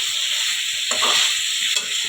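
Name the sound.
chicken being stirred and sautéed in a pan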